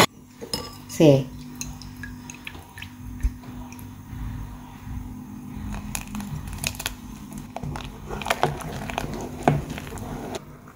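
Rice being stirred in a metal cooking pot, with utensil scrapes and clinks against the pot in short bursts and a soft wet squish under faint kitchen background.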